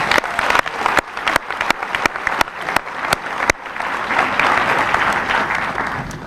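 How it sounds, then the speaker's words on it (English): A graduation audience at Osan American High School applauds, sharp individual claps punctuating the opening before the clapping swells into a dense, sustained ovation. "about a round of applause for our parents?"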